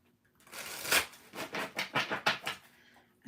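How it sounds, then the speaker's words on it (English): A deck of tarot cards is shuffled by hand, giving a quick run of close, crisp riffling flutters that builds and then stops, with no voices. "Get a couple more shuffles in for you guys."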